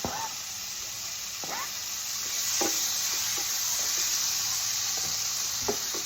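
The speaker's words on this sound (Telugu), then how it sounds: "ఫైవ్ మినిట్స్ మంచిగా ఫ్రై చేసుకోవాలి" Vegetables frying in a pan for homemade pav bhaji, giving a steady close sizzle with a few sharp stirring scrapes of a spatula against the pan.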